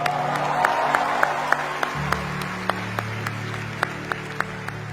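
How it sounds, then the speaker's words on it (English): Audience applause for the roast panel at the AIB Knockout comedy roast, a crowd clapping steadily with scattered sharp individual claps, while a low musical tone shifts partway through. "Huge round of applause."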